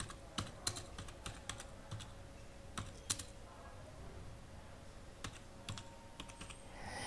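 Someone types a full name on a computer keyboard for an online application form, with quiet, irregular key clicks in short bursts and pauses, heard close in a quiet room.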